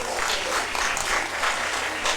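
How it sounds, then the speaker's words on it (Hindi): A crowd at an Indian literary awards ceremony claps steadily and fairly loudly, a dense continuous patter of many hands without a break. "एक बार ताली बजाइए।"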